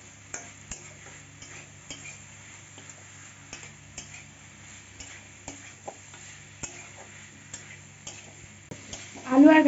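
Potatoes and gathi stir-fried in spiced oil in a pan, a quiet sizzle with a rhythmic scraping of a spatula at steady intervals, close up, and a louder clatter at the end.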